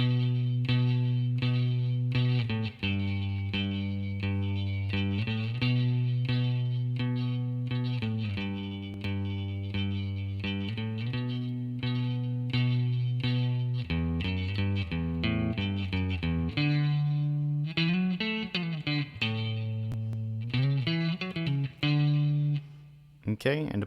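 Electric guitar playing the chorus of a song, a driving, chorded riff with an effects-coloured tone and bending, sliding notes, loud and continuous.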